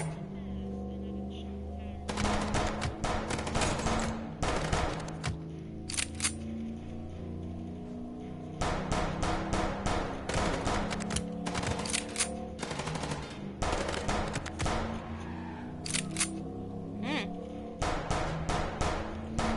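Rapid bursts of gunfire from a shootout in the detective game Chicken Police, coming in dense clusters separated by short pauses, loud against a steady background music bed.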